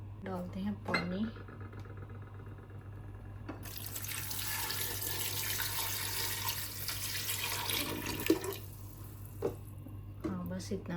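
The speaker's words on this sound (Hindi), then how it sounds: "डालते हैं पानी" Water pours from a tap into a cooking pot holding meat and spices. A broad steady rush runs for several seconds, with faint clinks of a metal pot at the start and end.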